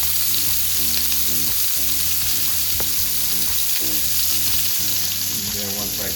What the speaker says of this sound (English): I just want to sear the other side just for a little